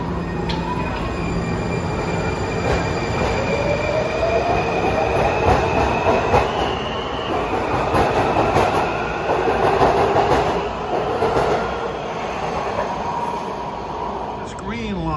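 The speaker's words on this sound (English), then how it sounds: "It's a Greenbelt train of Breda's." A Washington Metro Breda train bound for Greenbelt rolls past at Fort Totten, a loud sustained rumble of wheels with rising squeals and clatter along the rails, while someone talks over it.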